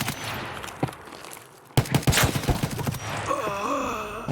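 Single-fire gunshots in the video game Raid ring out as a quick burst of several sharp cracks after a brief quiet stretch, followed by a voice groaning.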